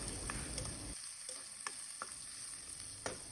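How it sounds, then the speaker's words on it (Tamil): Onions sizzling steadily in hot oil with mustard seeds and urad dal, with light scraping and stirring clicks from a utensil. "ஆயில் ஹீட் ஆகின பிறகு கடுகு உளுவரிசி அண்ட் சாப் பண்ணி வச்சுக்கிற வெங்காயம் சேர்த்துட்டு ஃபியூ மினிட்ஸ்க்கு சாட்டே பண்ணணும்"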